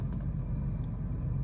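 A 1987 Jaguar XJ6 engine idles with a steady, low rumble, even and unchanging for the brief moment.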